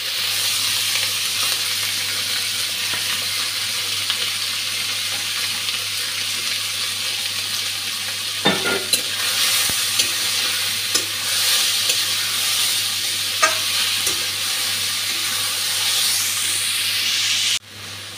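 Spice-marinated fish fries in hot oil for a Bengali fish curry, a loud constant sizzle with occasional spatters and stirring clicks, ending in an abrupt cut, no voices.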